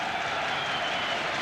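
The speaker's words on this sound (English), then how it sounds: "The crowd are going mad." Boxing crowd at the 14th Commonwealth Games super heavyweight bout cheering and applauding, a dense continuous roar of clapping and voices filling the whole moment.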